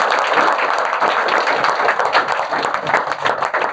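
An audience at a coaching institute's JEE results ceremony breaks into loud, sustained clapping, a thick wash of many hands that carries on evenly for the whole stretch.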